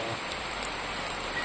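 Steady rain pours down in an even, hissing wash, loud and close, with no break and no voices over it.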